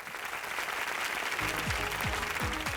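Loud, sustained audience applause greets four grand finalists on the grand finale stage of a TV reality show, a dense roar of clapping that continues throughout, with rhythmic music joining partway through.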